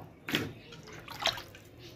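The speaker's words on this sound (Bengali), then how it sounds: "গোবিন্দভোগ চালের দু একবার ভালো করে ধুয়ে নেব" Gobindobhog rice being rinsed in water: two soft splashing swishes about a second apart, faint and close, with quiet sloshing between them.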